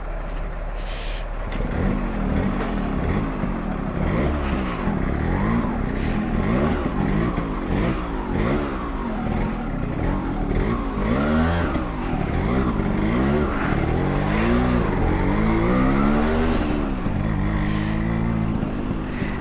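A vehicle engine starts and pulls away over a very rough, broken road, with a loud, steady, labouring drone and rhythmic, bumpy surges that continue close by throughout.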